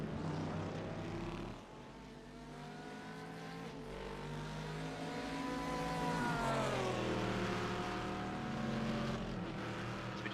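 GT race cars lapping the Interlagos circuit during a three-hour GT Masters event, their engines forming a continuous, moderately distant drone with pitch rising and falling as the cars accelerate and brake.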